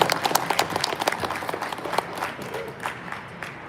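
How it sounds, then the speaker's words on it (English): Applause from the audience at a boxing fight-week press conference in Detroit, a dense burst of clapping that swells then gradually thins out over several seconds. "Give him a round of applause."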